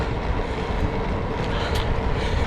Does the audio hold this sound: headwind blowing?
yes